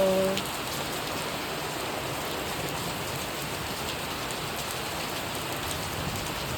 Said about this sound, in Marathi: पाऊस असा मस्त असा गडगडून पडतोय